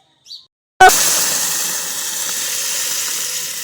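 Boiled moong dal hits a hot tempering of oil, red chillies, mustard seeds, cumin and garlic with a sudden loud burst of sizzling, settling into a steady hissing fry after a brief quiet moment.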